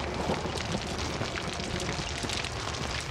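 Heavy rain pours steadily in the dark outdoor scene of the horror game Outlast, a dense, constant wash of noise that fills the clip without pause and with no talk over it.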